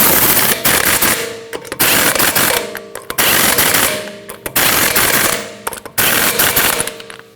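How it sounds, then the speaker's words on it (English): Repeated loud, rapid bursts from an impact wrench tightening wheel lug nuts on a Ford Escape, roughly five separate hammering runs in quick succession with short gaps between, very close. "Now tighten your lug nuts in a star pattern."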